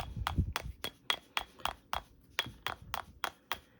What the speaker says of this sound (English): I'm just going to hammer this from the top down